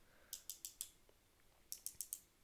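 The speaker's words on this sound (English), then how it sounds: "It makes a clicking noise as it lifts." A Thomas-branded wooden toy railway dumping car ratchets as it lifts, giving two quick bursts of about four sharp, close clicks each, separated by a short pause.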